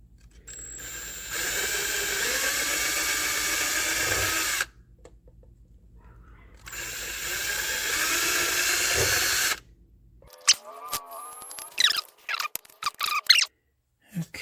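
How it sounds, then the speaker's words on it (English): A power drill bores holes in an arcade cocktail cabinet, with two sustained, loud whining bursts of about three seconds each separated by quiet, followed by scattered clicks, taps and squeaks of handling. "I believe we have our holes drilled."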